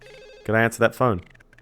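A telephone rings in The Sims on PS2, two or three loud bursts of ringing in quick succession standing alone over quiet game music.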